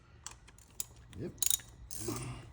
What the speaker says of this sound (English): we will first go ahead and unscrew this 10mm bolt with this right here